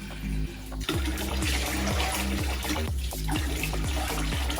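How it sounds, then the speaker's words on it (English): Cold water poured into a pot of rice, a steady close splashing rush with shifting gurgles that runs without a break, over a faint low repeating hum in the background. "So now we're going to put in 2 cups of cold water."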